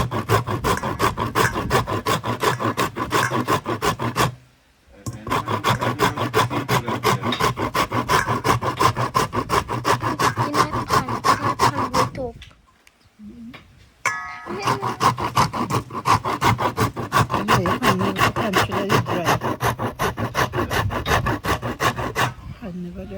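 Dry corn scraped by hand on a grater for old-fashioned corn dumplings in rural Jamaica, a rapid rhythmic rasping that runs steadily and close, broken by two short pauses.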